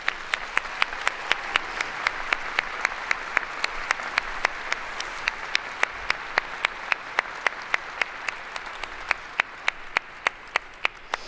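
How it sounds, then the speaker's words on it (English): A modest audience at a workplace excellence awards summit claps in a steady, fairly even rhythm for a credit union team heading to the stage, distinct sharp claps repeating for about eleven seconds with little talk. "Got to keep clapping until they get on the stage"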